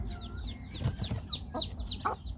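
Chicken clucking softly while foraging for food, a string of short repeated clucks with a few scratchy rustles, near and fairly quiet.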